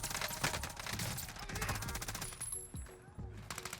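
Rapid enemy gunfire crackles throughout a Warzone match, dense automatic bursts and scattered shots layered over game noise, loud and continuous with a brief high tone near the end.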